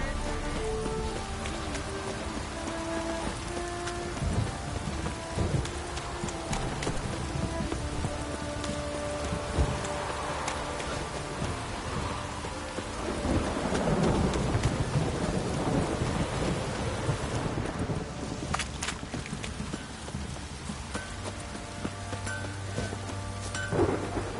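Steady rain pours throughout while low rumbles of thunder roll in, building to a heavier crash midway; no voices. From the video game The Witcher 3.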